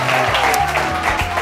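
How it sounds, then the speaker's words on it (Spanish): A television studio audience claps steadily, loud, dense applause filling the room, with a voice faintly heard beneath it. "Este aplauso va para ti."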